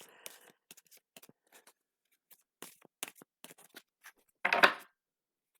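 Playing cards being shuffled in a few quick riffling bursts, with scattered small taps and handling noises before a louder, dense riffle near the end; no one speaks.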